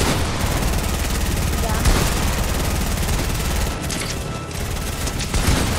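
Rapid, dense gunfire from a first-person shooter video game fills the whole stretch, loud and continuous with a few sharper bursts, and voices talking over it.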